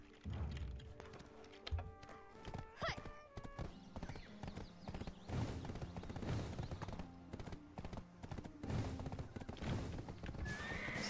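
Horses neigh and whinny among steady clip-clopping hooves in the online game Black Desert Online, with repeated hoof thuds and calls over a continuous game soundscape.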